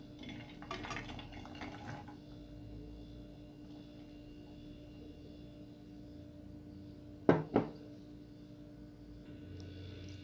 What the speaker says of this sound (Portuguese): E nessa panela, pessoal, eu vou colocar a linguiça.